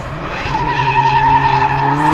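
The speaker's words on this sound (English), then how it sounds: "Few big clutch kicks there, trying to get the car back." A drift car at the British Drift Championships at Teesside skids with screeching tyres while the engine holds a loud, steady high-revving drone, close and continuous.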